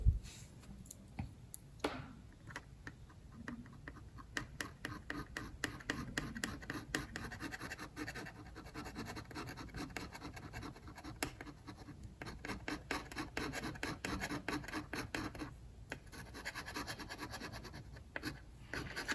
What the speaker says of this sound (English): I'm gonna scrape around her eye, around this area, around this tip.